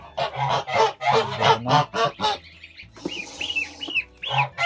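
Kholmogory geese honk in repeated nasal calls, close and loud, with a burst of higher squawks and flapping noise partway through; no talking.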